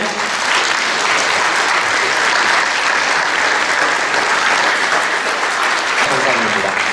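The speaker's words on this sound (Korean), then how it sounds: "이 두 분께도 박수 한번 부탁드리겠습니다." Loud, sustained applause fills the hall at the 2012 Dongni-Mokwol literary award ceremony, many hands clapping evenly and without pause for seven seconds.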